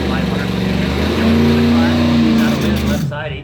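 A Buick drag racing launch at a drag strip, its engine roaring loud and steady with a rising tone before easing off near the end, with a commentator talking over it.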